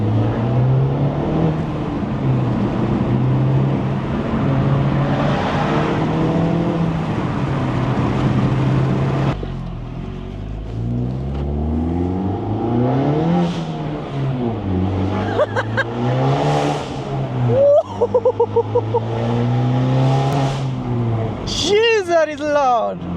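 A Honda Civic Type R FK8 engine with de-cat downpipe and Remus exhaust idles with a deep, loud exhaust rumble, then revs up and down repeatedly, the blips rising sharply; a voice speaks briefly near the end.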